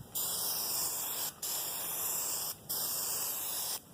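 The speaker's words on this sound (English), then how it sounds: "Not spraying it all over the tables and whatnot" An aerosol can of spray adhesive hisses in three long steady bursts with short gaps between them while carpeting is glued for a van conversion, loud and close with no talking.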